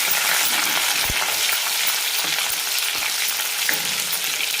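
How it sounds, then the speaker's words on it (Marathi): Paste of ginger, garlic and green chili dropped into hot oil, sizzling and frying loudly and steadily, with occasional soft knocks of a spoon stirring the pan. "तेल छान गरम झालं की लगेच यामध्ये आपण हे थोडंसं आलं, लसूण आणि हिरवी मिरची याचं जे वाटण होतं ते टाकून घेऊ"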